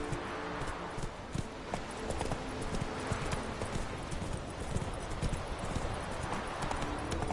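Hoofbeats of Roach, Geralt's horse in The Witcher 3 on PS4, clip-clop steadily at a gallop, close and continuous throughout, with a brief whinny-like sound and no talking.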